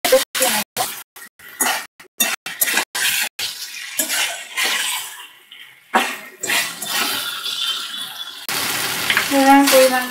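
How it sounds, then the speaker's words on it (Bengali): Boiled potatoes fry and get stirred in spiced oil in a pan for aloor dum, giving a choppy, bursty sizzle with stirring scrapes and brief gaps, partly under a speaking voice. "মশলাটা তেলটা ছেড়ে এসছে, এবার আলুগুলো দিয়েও ভালো করে কষিয়ে নিতে হবে।"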